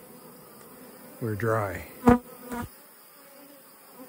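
Honey bees hum around their hives in a dry spell late in the nectar flow, a steady low insect drone beneath brief spoken words from a nearby man.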